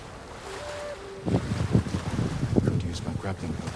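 Water splashes and waves as a character wades into the water in Ghost of Tsushima, starting after a second of quieter ambience with a brief tone, then steady sloshing and churning up close.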